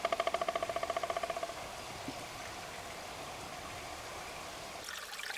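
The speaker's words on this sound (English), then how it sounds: "So I'm in the main channel of Whispering Creek." Water runs through the main channel of Whispering Creek on Gambier Island, a faint, steady trickling wash heard alone after an opening run of quick rhythmic pulses.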